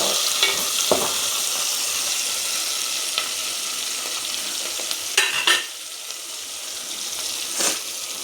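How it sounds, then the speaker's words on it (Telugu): Onion fries in a pan for a fish curry, with a continuous close sizzle and occasional light scrapes and clicks as it is stirred, no voices present. "నెక్స్ట్ ఈ ఆనియన్ని ఇలా బాగా వేగనిచ్చాలండి"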